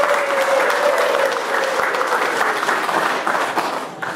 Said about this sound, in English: I'll just ask us to give them a round of applause.